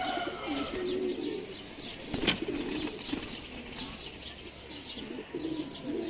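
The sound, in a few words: teddy pigeons cooing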